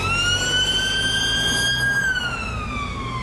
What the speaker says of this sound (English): Oh, ambulance coming.